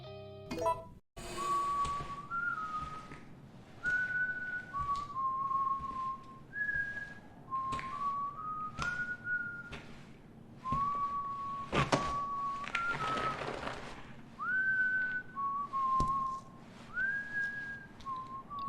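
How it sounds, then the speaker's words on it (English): A character in the Resident Evil 6 video game whistles a carefree, nonchalant tune, with steady clear whistled notes running throughout, punctuated by occasional soft thunks and clicks in the background. "Our first impression of him is a nonchalant whistling, playing with an apple, injecting himself with an unknown vaccine."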